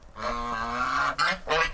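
A goose at a countryside home gives a few nasal honks up close: one long call followed by two shorter ones, clear and fairly loud.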